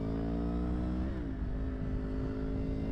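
A 1000cc motorcycle with a crossplane engine revs loudly and steadily, its harmonic tone dipping briefly around the middle before settling into a sustained high idle-rev drone.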